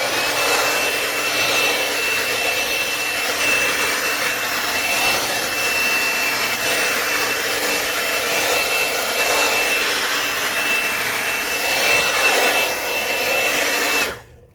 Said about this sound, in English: here's the job site blower in action